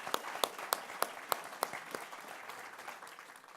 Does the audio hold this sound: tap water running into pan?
no